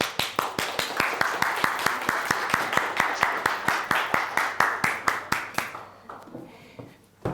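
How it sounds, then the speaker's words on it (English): A small workshop audience claps in a rhythmic, evenly spaced beat for a speaker, sharp distinct claps near and clear, then trailing off into quieter room sound at the end. "Give round of applause to Inger Udeküll."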